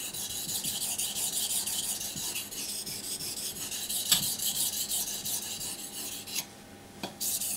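A knife blade rubbed back and forth on a 1000 grit medium whetstone, with steady, close, rhythmic rasping strokes that run continuously and break for a moment near the end.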